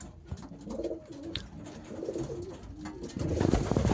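A racing pigeon in a loft coos in a soft, repeated throaty rhythm at close range, with other birds murmuring and rustling around it and a louder burst of cooing near the end.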